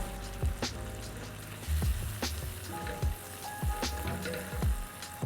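Chopped tomatoes hit a hot pan with shrimp, setting off a steady, close crackling sizzle with scattered pops and spits, heard alone without voices.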